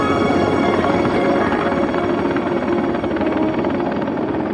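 A Mi-10 heavy-lift helicopter drones loud and continuous, its rotor chop beating fast and steady under a dense engine roar.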